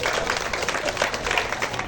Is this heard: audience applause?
yes